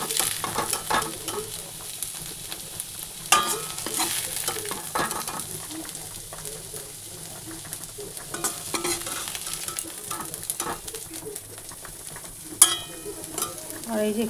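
Cauliflower and potato frying in a pan with carrot and pointed gourd, a steady sizzle broken by repeated scraping and stirring clatter, close and fairly loud with no talking.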